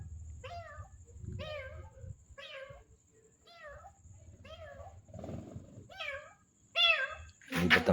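A cat meows repeatedly in an evenly spaced series of about eight short calls, fairly close, with faint background noise and a brief louder burst near the end.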